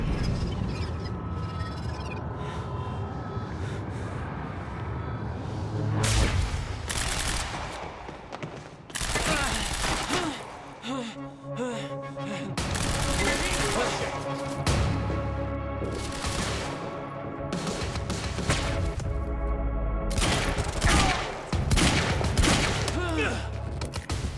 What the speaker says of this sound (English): Wow, this gun sucks.